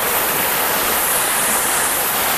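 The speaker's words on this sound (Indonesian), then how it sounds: "Ini adalah aliran sungai Yeh Panahan, atau masyarakat di sini bisa menyebut Yeh Panan." The Yeh Panahan river in Tabanan, Bali, flowing below a waterfall: a loud, unbroken broadband rush of water, steady and close throughout with no voices.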